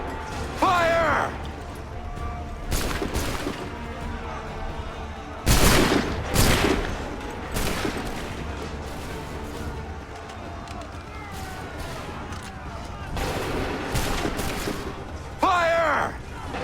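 Musket volleys crack out in Assassin's Creed 3 during a barricade defence, several loud ragged bursts of massed gunfire spaced a few seconds apart, with shouted commands in between.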